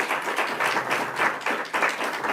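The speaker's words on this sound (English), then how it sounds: "That deserves a round of applause." Audience applause at remarks by Governor Kathy Hochul on New York tax relief, a short burst of crowd clapping that swells and pulses in loose waves, moderately loud with no speech over it.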